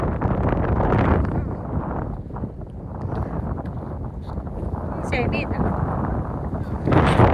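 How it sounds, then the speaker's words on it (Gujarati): Strong wind blows outdoors at a farm, buffeting the microphone with a continuous rough rumble that swells again near the end, while voices speak faintly beneath it. "પવન કેટલો હશે એમ જો."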